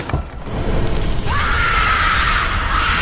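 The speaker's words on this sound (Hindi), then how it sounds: "जब सूरज की किरणें जेनी के शरीर पर पड़ने लगी तो उसकी चीखें पूरे घर में गूंजने लगी।" A horror-story scream rings out over a rumbling, ominous bed of sound, rising into a sustained, loud high cry that holds to the end.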